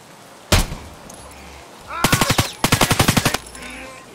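Gunfire in the Escape from Tarkov video game: a single loud shot, then two tight rapid bursts of automatic fire, close and sharp, with no talking.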